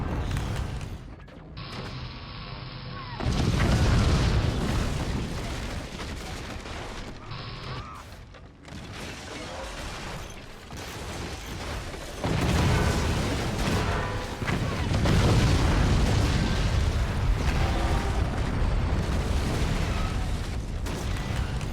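Weapons fire and repeated explosions from the Forts RTS game with the Birdies mod pound continuously, with mechanical launcher clatter and rumbling blasts building in dense, loud layers, with a voice talking at times.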